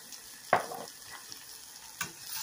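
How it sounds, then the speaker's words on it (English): Onions in a frying pan are stirred, giving a couple of sharp scraping clinks over a quiet, steady sizzle. "Going to stir them up a little bit."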